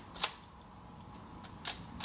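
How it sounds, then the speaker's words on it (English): A Nikon F film camera advances its film to the next frame with a few faint, sharp mechanical clicks spaced apart in a quiet room. "Or you can just advance to the next frame now, which I just did."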